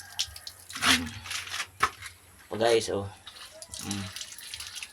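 Strong water gushing from a pipe at a pig farm, a steady rushing wash running beneath a man's close, loud talk.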